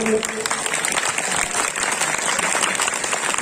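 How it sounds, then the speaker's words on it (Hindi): An audience at a devotional Bhagavat katha gathering claps together in continuous, dense applause that holds steady throughout, with voices faintly beneath it. "बजाओ ताली सब लोग मिल करके।"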